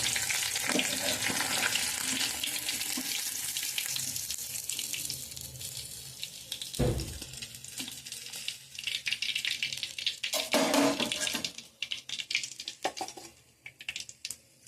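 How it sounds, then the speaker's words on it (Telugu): Fish pieces fry in hot oil, a steady broad sizzle and crackle that swells and fades over several seconds with occasional louder bursts, no voices. "చేప అయితే వేగుతుంది."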